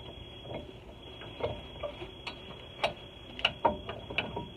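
Ratchet clicks while removing a brake caliper bolt on a 2007 Dodge Ram 1500 during front brake and rotor replacement: sparse, irregular close ticks over a low hum, with several sharper clicks near the end.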